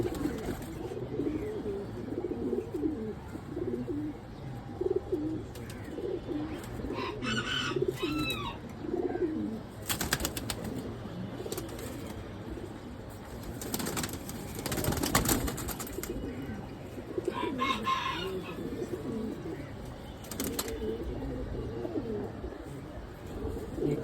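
A flock of pigeons keeps up low, burbling coos throughout, close and steady, with occasional higher chirps and a few short bursts of rustling or flapping.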